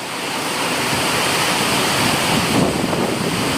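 Wind gusts during a rainstorm make a steady, loud broadband rush that continues unbroken, with no voices.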